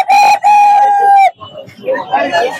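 A rooster gives a long, loud crow, followed by softer, scattered clucking from fancy-breed chickens nearby at Kaptan Bazar poultry market in Dhaka.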